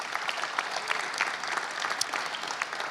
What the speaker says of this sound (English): Please give them a nice round of applause.